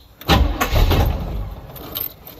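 Car engine cranking and catching, a loud close start that settles briefly into a rough idle before fading, with no talking.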